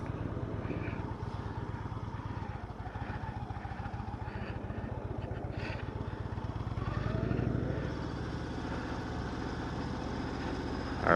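A 2020 Indian Chief Darkhorse cruiser's engine runs in tour mode at a demo day, with a steady low, rhythmic throb that swells briefly as the throttle opens before dropping back to an even rumble.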